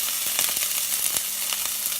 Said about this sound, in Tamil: அப்படியே வதங்க விடுங்க எண்ணெயில்.